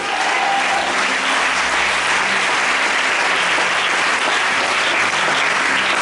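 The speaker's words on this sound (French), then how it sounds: "Est-ce que quelqu'un peut acclamer Jésus?" A church congregation at a Sunday worship service gives loud, sustained applause and cheering for Jesus. The dense clapping stays steady and fills the room for the whole stretch, with no voice rising above it.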